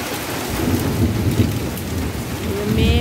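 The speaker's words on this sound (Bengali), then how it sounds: "ভালো জোর বৃষ্টি হচ্ছে" Steady, heavy rain pours down in a dense wash of noise, with low rumbling thunder rolling underneath throughout.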